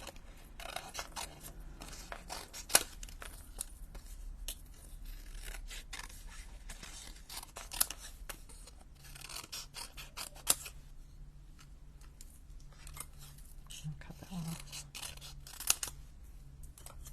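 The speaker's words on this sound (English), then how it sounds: "Just have to cut these ones around" Scissors snipping around card stock pieces for handmade cards, a quiet, steady run of small crisp cuts and paper rustles close by, with a few sharper clicks scattered through and no talk.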